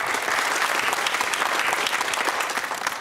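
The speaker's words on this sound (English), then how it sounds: "nice to see you applaud each other as well" Contestants on a university quiz show, Darwin College Cambridge against Bristol, applauding one another: a steady, close burst of many hands clapping, dense and even, tapering slightly at the very end.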